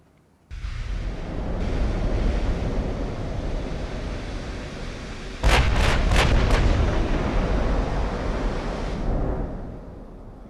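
Warship guns fire shells in a naval battle in the Ultimate Admiral game, a heavy booming roar under sustained rumbling, with a burst of sharp cracking salvo reports midway before the noise fades out.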